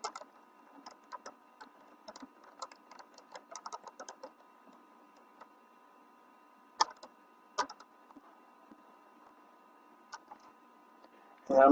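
A computer keyboard is tapped in short irregular bursts of soft, close clicks, with quiet gaps between runs of keystrokes while a SQL select statement is typed.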